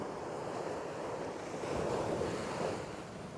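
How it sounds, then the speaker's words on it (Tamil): Sea waves surge onto the shore at Kalmunai, a continuous roaring wash that swells midway, heard close with wind buffeting the microphone and nobody speaking. "இங்கே பாருங்க உங்களுக்கு நிற்கவே பயமாக இருக்குது இப்படி அலை வருது"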